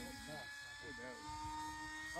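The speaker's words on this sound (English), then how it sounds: "I'm trying to knife edge the jet." RC foam MiG jet flying overhead, a steady high ducted-fan whine with tonal lines holding through the clip under people talking nearby.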